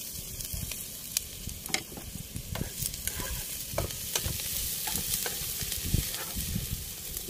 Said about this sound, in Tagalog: magigisa pa tayo dito mga ka-brother ng bawang at sibuyas